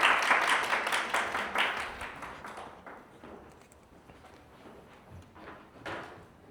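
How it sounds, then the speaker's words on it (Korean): Audience applause at a KRUG Serverless meetup presentation, a dense burst of clapping that is loud for the first two seconds, then thins into scattered claps and fades, with one last brief flurry near the end. "오, 박수."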